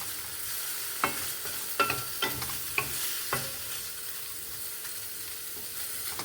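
Paneer fries in butter in a pan toward crispness for dhaba-style paneer butter masala, with a low steady sizzle and several clear spoon scrapes and knocks spread across the span.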